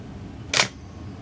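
A Minolta XG 1 35mm film SLR camera with a 50mm F2 lens fires its shutter once at a very fast speed, a single short crisp mechanical click heard close in a quiet room.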